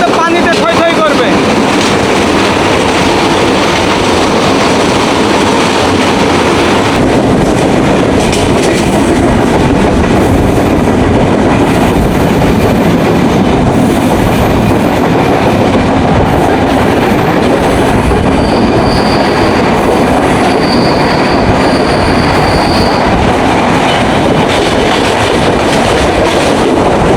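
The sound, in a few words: Bonolota Express train running on rails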